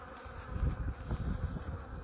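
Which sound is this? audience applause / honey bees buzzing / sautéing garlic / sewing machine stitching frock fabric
honey bees buzzing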